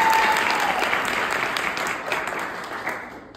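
An audience claps to welcome a performer onstage, a dense wash of applause from a small crowd, loud at first and gradually tapering off.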